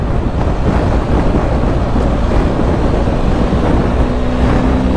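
A car cruising along a motorway on the way to work, its steady loud road and wind roar filling the cabin without a break and no voices over it.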